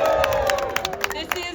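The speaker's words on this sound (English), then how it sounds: "I want to hear a cheer from everyone who's wearing Disney merch today." An outdoor crowd at a Disney Bros. Cartoon Studio square dedication ceremony in Los Feliz, California, cheers loudly and steadily. Claps and whoops rise through the noise, and speech babble mixes in.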